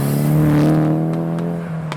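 A modified car revs hard and accelerates away from a car show, its loud engine note rising steadily and then easing off over two seconds with no talk.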